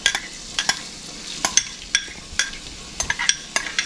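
Onions sauté in hot oil in a pan for Schezwan chicken fried rice, giving a steady close sizzle broken by repeated sharp scrapes and clinks of a spatula stirring at an uneven rhythm, with no talking.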